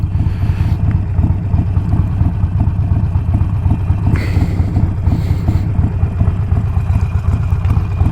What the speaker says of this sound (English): you can have a listen to the exhaust